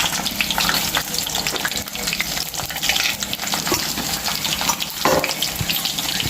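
Cumin and mustard seeds frying in hot oil for a tempering in a South Indian chanagaku pachadi; a loud, steady crackling sizzle fills the whole stretch with small pops throughout, no talking.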